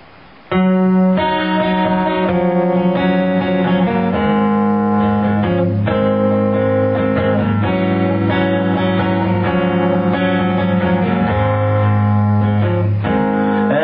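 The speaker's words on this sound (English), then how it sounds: "So I'm going to play Dave's song" An electric guitar plays a song with sustained, effects-laden chords and melody, steady and fairly loud throughout, with no singing or talk.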